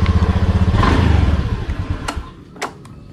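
A Honda Beat scooter engine, just repaired after a total electrical failure, runs close and loud with a steady pulsing idle and rev, then settles lower with a few sharp clicks and clatters near the end.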